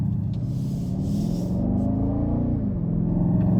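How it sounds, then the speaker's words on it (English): A 2023 BMW X6 M50i's V8 accelerating in comfort mode, a steady low engine rumble that rises gradually and holds continuously throughout, heard from inside the cabin. "Oh, the V8 sounds good."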